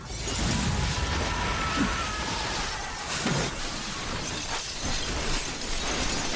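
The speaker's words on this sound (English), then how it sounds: "a security guard, half-ashed, comes smashing through the mirror" A security guard smashes through a glass mirror in a film scene, a dense, sustained roar of shattering glass and crashing debris lasting several seconds at steady loudness.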